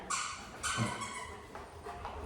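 Several dogs at a puppy training class yip and bark in short bursts, with a whimpering tone between them, fairly close and lively, while other dogs sound faintly in the background.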